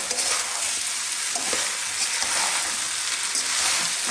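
Cooled sweet potato rice sizzles and crackles in a hot pan while being stirred, a steady close frying hiss with scraping stir sounds and no talk.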